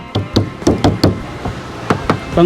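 Knuckles rap on the roof edge of an Isuzu D-Max pickup in a run of about ten sharp, close knocks, irregularly spaced, with a hollow metallic body.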